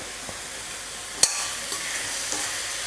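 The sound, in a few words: raw mango sautéing in oil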